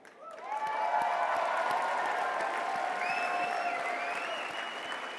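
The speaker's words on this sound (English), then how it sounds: "Give yourself a round of applause." Sustained applause from a large CPAC conference audience, swelling quickly and holding steady as a dense wash of clapping with scattered whistles and faint voices mixed in.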